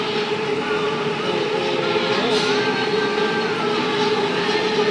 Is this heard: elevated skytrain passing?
yes